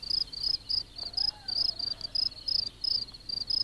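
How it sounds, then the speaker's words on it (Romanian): A field cricket in a sunny hay meadow chirps in steady, evenly spaced high-pitched pulses, close and clear, with a faint sweeping tone in the background. "Greierul de câmp este muzicantul neobosit al fânețelor însorite."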